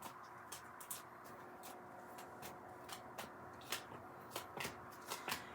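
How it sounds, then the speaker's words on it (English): A tarot card deck being shuffled repeatedly, a series of crisp riffling bursts and soft flutters, close and fairly quiet, with no talking. "it's going to be noisy on the shuffle"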